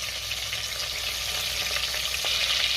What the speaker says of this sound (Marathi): तेल बटर गरम झाले, त्यात खडे मसाले घालूया।